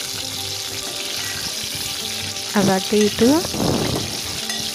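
Eggplant fries in hot oil in a pan for Telangana-style masala vankai. The sizzle is steady and close throughout, with a few brief spoken words over it.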